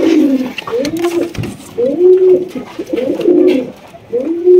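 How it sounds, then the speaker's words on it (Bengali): Large pigeon sitting on its eggs, cooing in repeated soft, throaty rolling phrases, close by, with faint background noise between the coos. "কত সুন্দর ভাবে বয়ে আছে এই কবুতরটা"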